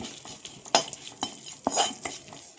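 A spoon scrapes and clinks around a pan in quick irregular strokes over a soft sizzle of tempering with garlic cloves, dried red chillies and curry leaves, close and fairly quiet.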